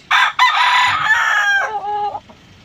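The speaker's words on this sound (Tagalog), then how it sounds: "Yung manok namin na 7 months." A single seven-month-old rooster crows close by, one full cock-a-doodle-doo with a rising start and a drawn-out ending.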